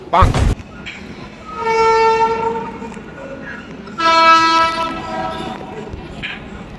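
A train at a railway station sounds two long horn blasts, with a short knock at the start and rumbling rail noise between and after the blasts, loud and close.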